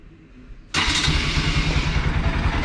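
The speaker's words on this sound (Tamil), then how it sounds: "ஸோ பைக் பார்த்தீங்கன்னா இப்போ ஸ்டார்ட் பண்ணிடுறேன்." A motorbike on its center stand fires up after a short quiet moment, then settles into a loud, steady, close idle with a throbbing pulse.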